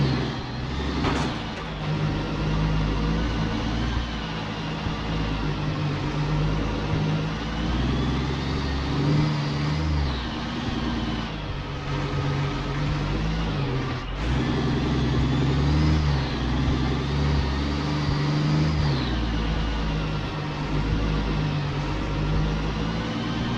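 A truck engine revving hard in a truck-driving game on the Harsh Russia map with icy roads, a loud continuous mid-pitched roar that rises and falls with shifting revs, with no talking.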